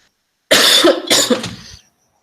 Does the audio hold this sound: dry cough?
yes